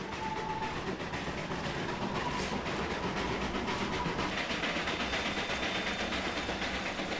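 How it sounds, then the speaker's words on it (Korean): Passenger trains on Indian railways roll past with a continuous rumbling, hissing wash of wheel and carriage noise, steady and moderately loud throughout with no voices. "실핏줄처럼 전국에 퍼진 열차 노선은 한 곳의 행선지를 향해 사람들을 실어 나른다."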